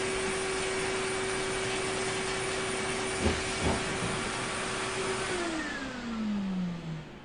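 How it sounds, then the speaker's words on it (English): A Sebo X7 upright vacuum cleaner runs with a steady loud whine and broadband roar, a couple of knocks midway, then the motor pitch falls as it winds down. "I'm just going to vacuum this."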